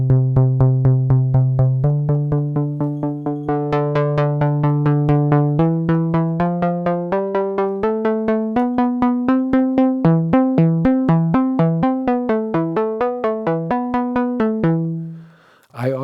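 A Delta CEP A synthesizer with a slightly detuned second swarm oscillator plays a steady stream of short plucked notes in a shifting melodic sequence, bright and loud, ending with a brief noisy burst.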